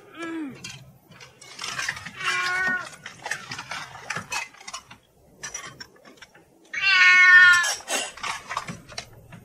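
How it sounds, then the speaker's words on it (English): A cat meows repeatedly, with several drawn-out, wavering calls of varying pitch and one loud, long yowl near the end, heard alone without talk. "What? A cat!"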